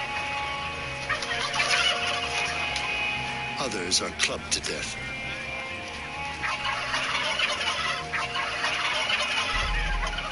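Chickens and turkeys raised for meat gobble and cluck in a crowded barn, a dense, continuous din of many birds under a narrating voice.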